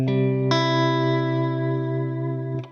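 Electric guitar through a reverb pedal set to 1 millisecond pre-delay: a sustained chord rings with a fresh strum about half a second in, tones held and slowly decaying until a final attack near the end.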